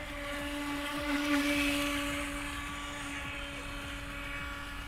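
Eachine EBT05 57 cm RC speed boat: its electric motor gives a steady, high, whining drone with a tonal hum that swells slightly as it speeds up, then holds level, heard alone without talk.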